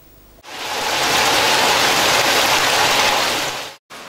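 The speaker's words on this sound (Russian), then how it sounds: "Град размером с горошину вперемешку с дождем, а затем ясное солнышко и снова ливень." Rain mixed with pea-sized hail pours down during a stretch of stormy weather in Karaganda, a dense, steady hiss that starts abruptly and holds loud and even for about three seconds before cutting off.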